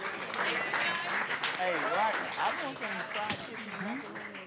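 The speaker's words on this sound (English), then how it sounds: "Give them a big round of applause." Audience clapping at an evening heritage panel event blends with loud overlapping talk and cheering voices, forming a busy, continuous wash of sound throughout.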